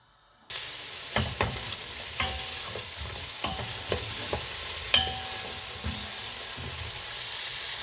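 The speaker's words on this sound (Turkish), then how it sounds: "Ve havuçlarımızı atıyoruz. Havuçlarımızın rengi yağa çıkıncaya kadar kavuracağız." Carrots sauté in about half a tea glass of vegetable oil, a steady close sizzle that starts abruptly, with repeated clinks and scrapes of stirring.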